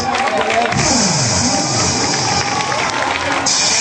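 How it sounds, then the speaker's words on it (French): At a school event, an audience claps and cheers for schoolchildren, loud and close, with children shouting and a lively crowd hubbub mixed in, while voices talk over the noise. "Applaudissez très fort à ces"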